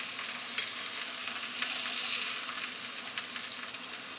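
Chicken sizzling in a grill pan, a steady bright crackle and hiss of frying with small pops throughout, close and continuous with no voices.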